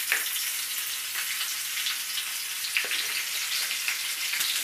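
Chillies added to hot oil give a constant, even sizzle with faint scattered pops, heard up close and alone for several seconds.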